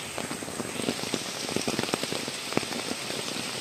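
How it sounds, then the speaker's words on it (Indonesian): Heavy rain falls outdoors during a hunting trip, drumming densely and steadily on nearby surfaces with scattered louder drops spattering close by. "Sanggungannya hujan, guys. Kita gak bisa kemana-mana ya. Oh, hujannya besar."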